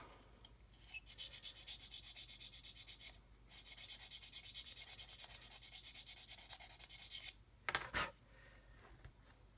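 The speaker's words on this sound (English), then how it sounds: "So we'll just sand a little bit more away from it." Steady rasping strokes of sandpaper on a plastic 1/48 scale model truck door, a Kitty Hawk Ural 4320 kit, rubbing back and forth close and quiet, pausing briefly once, with a couple of soft knocks near the end.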